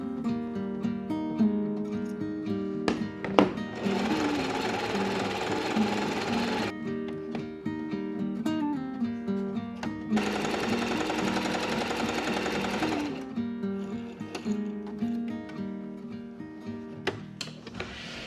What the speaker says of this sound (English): we have got all 4 panels zigzag stitched the whole way around